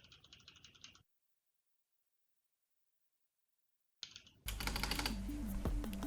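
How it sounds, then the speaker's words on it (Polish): Computer keyboard keys clicking in quick bursts, picked up by a HyperX Cloud II Wireless headset microphone: a short flurry, then a pause, then more rapid typing that turns louder and busier near the end. "zobaczmy, jak słuchawki zbierają klikanie klawiatury"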